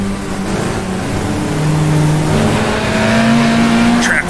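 A 1966 British saloon car racing in GTR2 at Brands Hatch, the engine droning loudly then dropping and climbing in pitch as it downshifts to second, with a faint squeal near the end.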